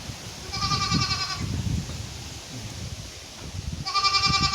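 Goats bleating in two bursts, one near the start and one at the end, with rough, quiet shuffling noises between them.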